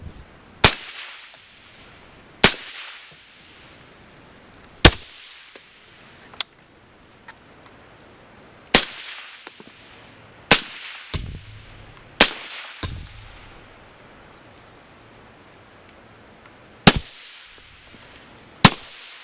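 .308 rifle fired through a Dual-Lok 7 suppressor outdoors, a dozen or so sharp suppressed reports spaced irregularly over about twenty seconds, each with a short decaying tail and faint clinks between, no talking.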